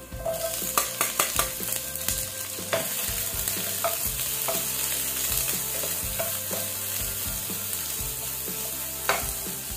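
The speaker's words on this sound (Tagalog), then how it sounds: "Lulutuin na po natin itong ating onion." Onion sizzles in a hot pan as it sautés for tuna head soup, with repeated stirring scrapes and clinks of a utensil over the steady frying hiss, close up and with no voices.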